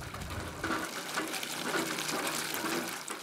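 Water splashes and gushes steadily at a garden well of a house without running water in rural Afghanistan, continuous and fairly close with no talk.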